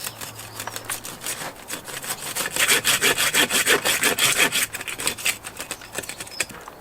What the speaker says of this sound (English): I'm going to saw it in half